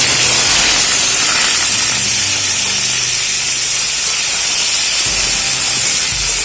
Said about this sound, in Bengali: আলু ভেজে নেওয়ার পর ওই তেলের মধ্যে আমি এবারে এঁচোড়গুলো ভেজে নেব